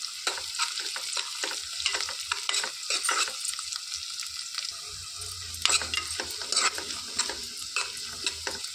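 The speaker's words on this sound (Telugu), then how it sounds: "ఇందులోనికి పచ్చిమిర్చి కూడా వేసుకొని వేయించుకోవాలి. ఒక రెబ్బ కరివేపాకు కూడా వేసుకొని వేయించుకోవాలి." Green chilies and a sprig of curry leaves frying in a pan, a steady crackling sizzle with frequent spoon scrapes and light clinks against the metal, busy at first and easing midway.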